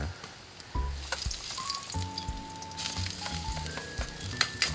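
Ginger and then garlic sautéing in a pan as the base for squid adobo; a close, continuous sizzle broken by scraping and tossing noises, with faint tonal beeps or music in the background and no speech.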